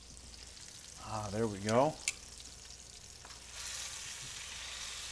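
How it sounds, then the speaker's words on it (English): Pork shoulder browns in a hot pan, a steady soft sizzle running under a brief spoken remark and rising slightly toward the end. "let's take a look at our pork browning up"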